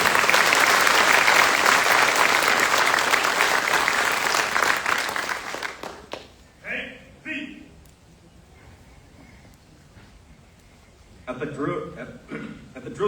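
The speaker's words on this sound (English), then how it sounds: "Please join me in a round of applause for the winning squad of the drill and ceremony competition." Loud audience applause at a military Drill Sergeant Academy graduation ceremony, honoring the winning drill and ceremony squad; dense clapping for about six seconds, then fading into sparse claps and murmuring, with a brief renewed burst near the end.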